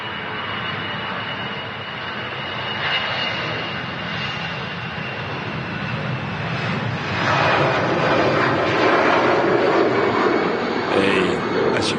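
A jet airliner bound for Helsinki takes off from a Manchester Airport runway, with a steady, moderately distant engine rumble that builds into a louder roar toward the end.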